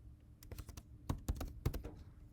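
Credentials being typed on a computer keyboard: a brisk run of close key clacks in irregular bursts, with a few heavier thumping presses, and no talking.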